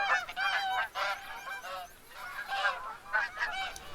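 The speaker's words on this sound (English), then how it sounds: "Got all the geese out there." Geese honking out in the open during a hunt, a run of repeated nasal calls from several birds, overlapping in uneven bursts at moderate distance, with no speech.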